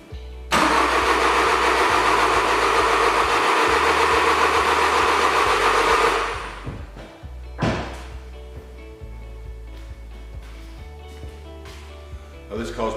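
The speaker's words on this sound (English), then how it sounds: "it's failing to even attempt to fire." A cold car engine cranks hard for about six seconds without firing, the starter's loud, even churning cutting off abruptly, followed by a brief second burst of cranking and softer clunks afterward.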